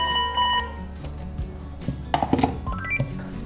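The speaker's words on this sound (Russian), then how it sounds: "Если мы потеряли трубку, включаем режим пейджинга." A Panasonic KX-TG6821RUM DECT cordless phone handset gives off electronic paging chirps in short tonal bursts, with a pause in between, fairly close and clear.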